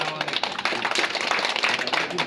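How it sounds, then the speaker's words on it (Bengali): A crowd claps together at the opening of a political party's election office in Rajshahi, a dense, close burst of applause that runs continuously, with voices mixed in. "জোরে করতালি হবে একটা জোরে"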